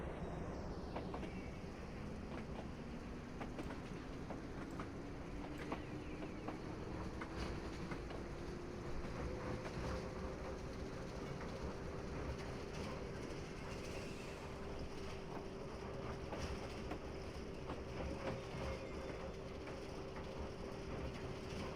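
A train rolling on rails in a train simulator game on the Falmouth Branch, a steady low rumble with a slowly rising engine tone and faint wind noise, continuous and even throughout.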